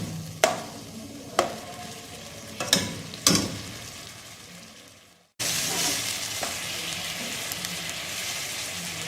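Chicken pulao mixture stirred in a pot: a few scraping stir strokes over soft sizzling, then a steady, louder frying hiss as it cooks, with no talking.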